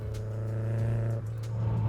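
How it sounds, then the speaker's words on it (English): A modified Mazdaspeed3 hatchback's loud aftermarket exhaust holds a deep, steady droning note close by, briefly dipping before settling back into a sustained rumble. "Loud exhaust."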